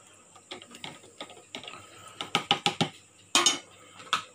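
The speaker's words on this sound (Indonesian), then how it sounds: "Ini aku kocok ya, sampai sebati guys." A spoon stirring a coffee mixture in a cup gives a run of light metallic clinks and taps, irregular at first, then quicker and louder toward the end, close by with no voices.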